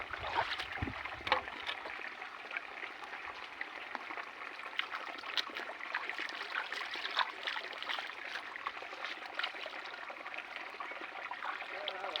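Water flows strongly through a field irrigation channel, a steady trickling, gurgling rush that carries on without a break from start to finish and sounds moderately near.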